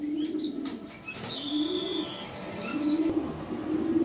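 Racer pigeons kept as a pair, one grizzled white and one dark, coo in low repeated murmurs close by, with a few faint chirps and a brief flutter mixed in.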